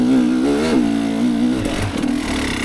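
A 2023 GasGas EC300 TPI two-stroke dirt bike engine revs hard in second gear, loud and close, its buzzing pitch rising and dipping continuously with no break.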